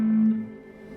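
Electric guitar run through a Big Sky Drive overdrive pedal set for low distortion, a single sustained note ringing out clearly at first and then decaying into a softer, lingering tone.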